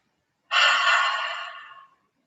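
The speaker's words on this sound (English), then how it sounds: "Take some deep inhales and exhales." One slow, deep breath during a seated yoga session: a soft airy exhale through the mouth that rises sharply and fades over about a second and a half, close and alone in quiet.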